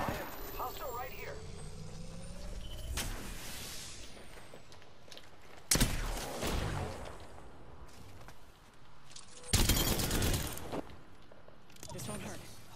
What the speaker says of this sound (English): I'm taking fire, friend.